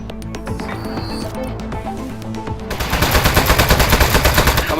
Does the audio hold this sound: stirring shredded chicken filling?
no